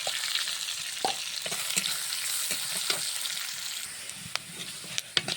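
Chopped onion fries in hot oil with two whole bay leaves and cumin seeds, a continuous close sizzle broken by stirring scrapes and sharp spatter pops, with no talking.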